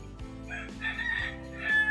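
Roosters crow in overlapping calls, one after another, fairly close, with no voices.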